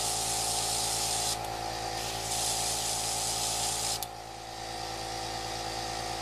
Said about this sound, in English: You just spray it into a tissue until the foundation runs through and until you see the cheek color